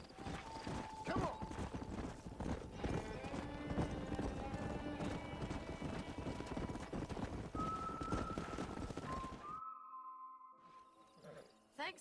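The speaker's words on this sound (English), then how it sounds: "We got some fine horses." A horse from the video game Red Dead Redemption clip-clops steadily with a neigh or two over a musical score and game ambience. Everything cuts off abruptly near the end, leaving a few faint tones.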